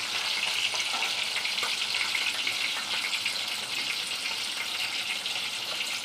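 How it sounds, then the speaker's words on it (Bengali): Salt-rubbed potatoes frying in hot oil, making a constant bright crackling sizzle, close and evenly loud from start to finish with no voices. "আলুটা নুন দিয়ে মাখিয়ে তেলে ছেড়ে দিয়েছি।"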